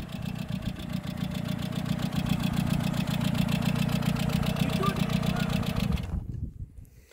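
A Peugeot 205 Junior engine idles with a steady low rumble and slight knock, close by, then cuts off abruptly near the end leaving quiet.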